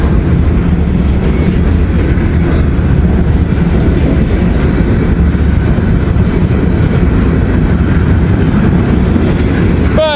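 A Norfolk and Western freight train rolls past at Cincinnati Union Terminal, with a loud, continuous roar of wheels and rumbling cars. The rhythmic clatter holds steady the whole time, and a brief wheel squeal comes near the end.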